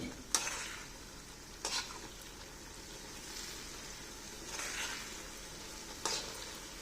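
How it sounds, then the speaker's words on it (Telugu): Red chili tamarind pickle being reheated in oil, soft frying sizzle under a few distinct stirring scrapes of a spoon against the pan, quiet and close with no talking. "ఈ పచ్చడంతా కలిపిన తర్వాత ఒక్కసారి మళ్ళా గ్యాస్ వెలిగించుకొని కొంచెం వేడి చేసుకోండి"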